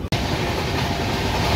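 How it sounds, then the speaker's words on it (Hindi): The Vikramshila Express runs on rails from Anand Vihar toward Kanpur at a moderate speed, giving a dense, constant rumble and rattle of wheels and carriages, heard from inside the train after a brief cut at the start. "वन थर्टी के स्पीड से हमारी ट्रेन धीरे धीरे कानपुर की तरफ बढ़ रही है।"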